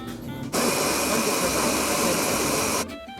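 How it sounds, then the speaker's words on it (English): A blender whirs loudly for a few seconds, blending aloe vera gel with water, starting abruptly and cutting off sharply, with a steady high-pitched motor drone and churning. "Add some water."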